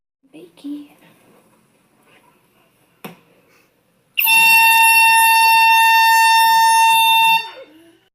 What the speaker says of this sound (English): This was top 10 best air horn pranks on YouTube